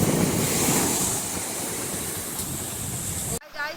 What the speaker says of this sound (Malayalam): വളരെ ശക്തമായിട്ട് തിരമാല അടിച്ച് കല്ലേലടിച്ച് വരുന്ന കാഴ്ചയാണ് ഇപ്പോൾ കണ്ടുകൊണ്ടിരിക്കുന്നത്